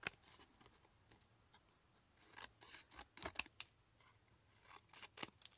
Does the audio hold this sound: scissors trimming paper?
yes